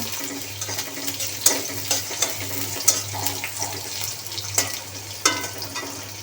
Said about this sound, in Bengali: তেল গরম হয়ে আসার পর দিয়ে দিব মরিচ পেঁয়াজ, নাড়াচাড়া দিব।